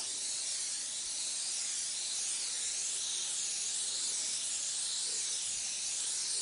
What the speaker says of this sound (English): there's going to be a lot of overspray getting on the other parts of the vehicle